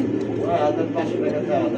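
Russian breed pigeons cooing at a pigeon market, a steady low murmur of overlapping coos under continuous nearby talk.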